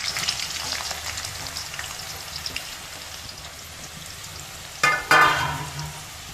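Onions frying in oil for chicken dum biryani, a steady close sizzle and crackle throughout, broken near the end by two loud bursts of stirring and scraping in the pan, with no talk.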